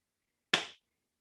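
One sharp, close hand clap during an adaptive fitness exercise session, a single crisp slap with a quick decay and silence on either side.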